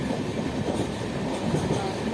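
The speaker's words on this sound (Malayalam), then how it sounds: "Ernakulam town Kochuveli super fast express" Mumbai LTT–Kochuveli superfast express train passing close by, a loud, continuous rumble of rolling carriages with steady wheel clatter filling the whole stretch, no talking.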